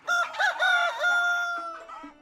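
A rooster crows in one drawn-out, wavering call, close and loud with clucking notes around it, then trailing off.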